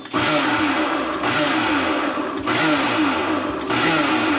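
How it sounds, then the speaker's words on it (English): A kitchen blender whirs through crepe batter in repeated pulses, each roughly a second long with brief dips between, the motor loud and close with a steady rising whine. "I'm going to put it here in my trusty blender"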